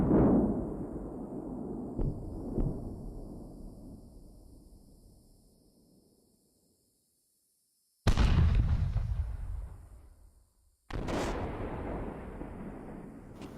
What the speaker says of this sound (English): bit of main gunfire and fighting going up. I can hear it from the missile team up in the north here.